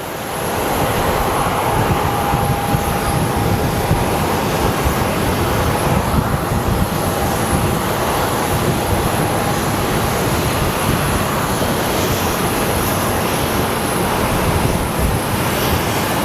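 A JSX or private business jet at Sky Harbor Airport, a loud continuous broadband jet roar with a faint high whine, steady throughout with no talking.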